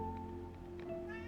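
A cat meows in short, drawn-out tonal cries, close by, over a steady low background hum.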